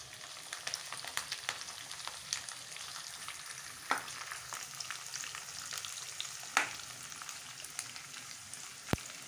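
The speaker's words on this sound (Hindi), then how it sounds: "ज़्यादा डीप फ्राई मत कीजिएगा गाइस, बस थोड़ा बहुत फ्राई करना है इसको।" Ginger and garlic fry in oil for a green chilli pickle, giving a soft, steady sizzle with scattered crackles and sharp pops, heard close but quiet, with no voices.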